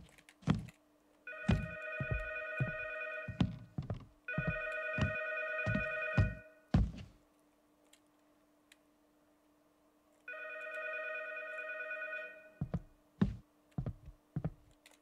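A telephone rings in a video game, clear electronic trilling bursts in three separate rounds with sharp clicks and taps scattered between them and a long silent gap before the last ring.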